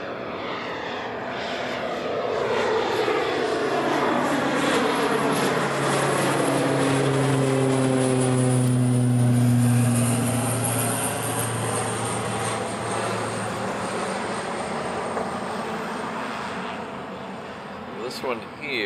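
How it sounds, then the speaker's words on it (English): A Hawaiian Airlines jet departs Honolulu airport bound for Los Angeles, its engine roar building into a loud, sustained rumble with a sweeping whine and then fading gradually as it moves away. "It should be Hawaiian Flight 10 heading off to LA."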